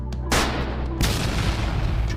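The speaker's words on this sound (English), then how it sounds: "I'm going to line it up with the explosion right there" A loud explosion sound effect added in a CapCut edit: a sharp blast bursts out, then a second heavy boom hits about a second later and rumbles on with a sustained roar.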